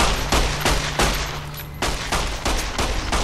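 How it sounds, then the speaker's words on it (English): Gunfire in the video game Fallout New Vegas, a rapid series of sharp shots in bursts of several rounds each, loud and close with no talking. "Shoot me again! I'm just gonna shoot your head."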